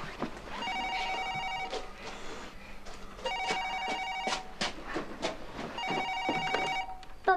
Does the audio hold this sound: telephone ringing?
yes